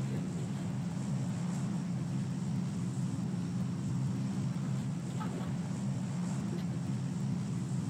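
Airplane drone in PUBG Mobile: a steady, continuous low propeller-and-engine hum that holds evenly for several seconds, moderately quiet, with no talk over it.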